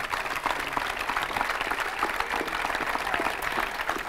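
Steady applause from a crowd at the official presentation of the Carpegna Prosciutto Basket Pesaro basketball team, dense and sustained throughout at an even level.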